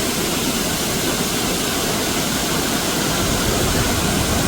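Waterfalls in Sohra, Meghalaya roar as a loud, continuous broadband rush of falling water, steady throughout with no voices.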